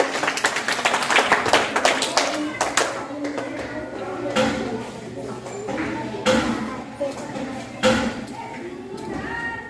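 Children in a school classroom clap their hands together in a short burst on cue, close and fairly loud, during a readiness activity about near and far, with a teacher's voice talking over and around the clapping.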